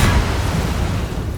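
Booming Blade spell attack in Baldur's Gate 3, a dense, loud rumbling burst of impact noise sustained for about a second and a half.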